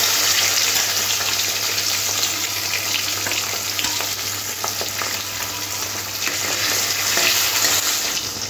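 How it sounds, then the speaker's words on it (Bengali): Pieces of rui fish fry in hot oil, giving a steady, dense sizzle that crackles continuously and stays close and loud throughout, with no talking. "ঠিক এরকম মাছগুলো ভাজতে হবে, বেশি কড়া ভাজতে হবে না।"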